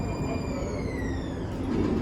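A Metro Green Line light rail train arrives at a St. Paul station with a steady rumbling roll and high, drawn-out wheel squeal tones, loud and near throughout.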